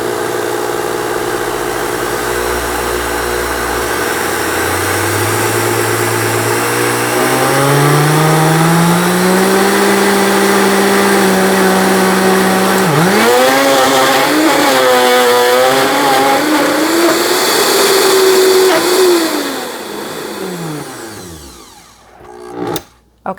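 A Vitamix blender grinds coconut into coconut butter, its motor whining loud and steady as the pitch climbs and wavers under load, then it winds down and cuts out near the end, with a couple of sharp knocks.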